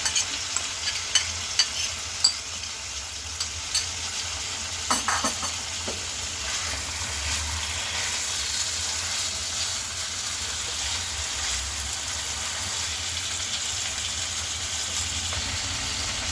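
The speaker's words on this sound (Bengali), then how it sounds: "এবার আমি দিয়ে দিচ্ছি চিকেনের টুকরোগুলি" Chicken pieces fry with sautéed onions and salt for chicken handi, a steady hissing sizzle running throughout, with a few sharp spoon clinks near the start and no voices.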